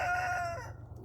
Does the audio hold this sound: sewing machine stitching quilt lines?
no